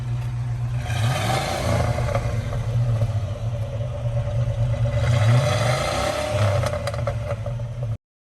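A campervan engine with a new exhaust idles and revs up and down at close range, a low rumble swelling with throttle blips and carrying some faint popping and clatter, before cutting off abruptly.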